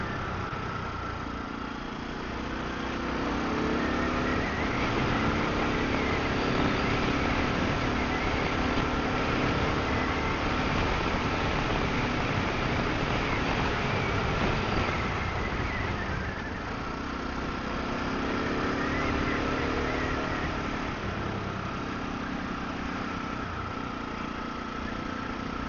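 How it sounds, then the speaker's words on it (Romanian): A 600 cc single-cylinder engine on an SWM Superdual T enduro motorcycle runs steadily for the whole stretch, a close, loud mid-pitched drone that swells slightly in two broad surges without any talk. "avem o motocicletă monocilindrică de 600 de centimetri cub."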